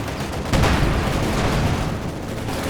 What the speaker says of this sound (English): Taking fire from Red Army unit!